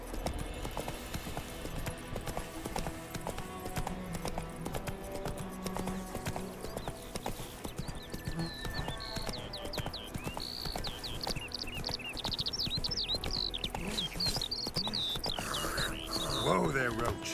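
Geralt's horse Roach trotting in The Witcher 3, steady rhythmic hoof clip-clops running throughout amid game ambience and faint bird chirps, with someone talking intermittently over it.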